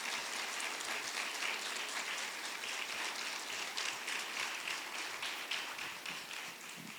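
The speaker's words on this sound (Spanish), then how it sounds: "Dale un aplauso al Señor si quieres, claro" A church congregation applauds steadily during an evangelical service, a dense, fairly distant wash of clapping that holds for about seven seconds and eases slightly at the end.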